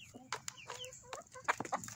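Backyard chickens cluck busily while tearing apart lettuce: a run of close, chattering clucks and short squawks in quick irregular succession.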